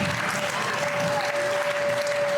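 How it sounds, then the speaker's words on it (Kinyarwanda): A church congregation gives steady, full applause, a dense continuous clatter of many hands heard close. A sustained tone hums faintly underneath. "Komera Imana amashyi."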